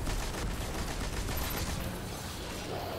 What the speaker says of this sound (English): And so I go and try to shoot the ones that I'm looking for.